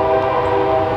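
Close, loud train horn held as one continuous blare over the rumble of a passing train, steady throughout with no talking.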